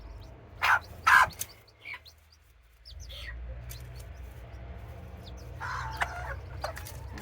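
Serama hens clucking in short bursts at close range at the start, then quieter scattered clucks and chirps over a steady low background rumble.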